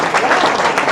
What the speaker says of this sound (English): And now we can clap.